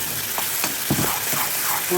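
Coconut paste and spices sauté in hot oil for a Tamil chicken curry, a dense continuous sizzle with scraping stirs of a spoon against the pan, close and loud throughout, no voices.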